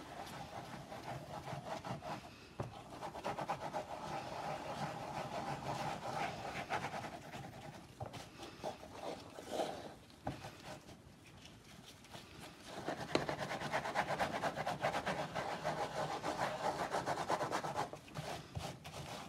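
Steady scrubbing and rubbing as excess Powertex Stone Art is worked off a craft piece by hand, a continuous dry abrasive rasp with short pauses, fairly close and moderate in level, no talking.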